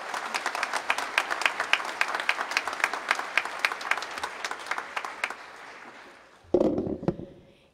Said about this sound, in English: please give a warm round of applause to our commencement speaker